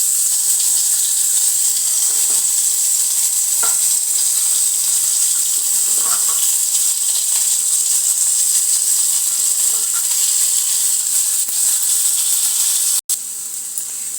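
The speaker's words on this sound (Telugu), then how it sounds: "కొద్దిగా ధనియాలు, జీలకర్ర, కొద్దిగా కరివేపాకు, కొద్దిగా పల్లీలు, కొద్దిగంత మినప్పప్పు వేసి వేయించుకుందాం." Coriander seeds, cumin, curry leaves, peanuts and urad dal fry in oil for a green chilli chutney, producing a loud, dense, unbroken hiss that cuts off briefly near the end.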